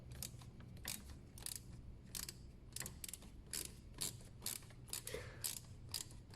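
A ratchet wrench loosens 10mm bolts on a car's EGR valve with a P0400 fault, giving bursts of quick metallic clicking in short repeated strokes, close and fairly quiet.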